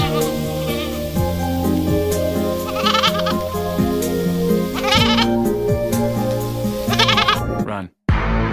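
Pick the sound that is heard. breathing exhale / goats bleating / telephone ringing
goats bleating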